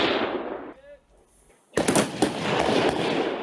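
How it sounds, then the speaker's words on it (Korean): Rapid bursts of gunfire crack across an army live-fire shooting range during training, a quiet pause giving way to loud, dense, continuous shots from about the midpoint onward. "사격장 안에 요란하게 총성이 울려 퍼지고"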